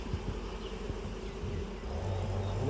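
Honey bees hum around a beehive in a steady, close buzzing drone with individual insects passing near, growing slightly louder toward the end.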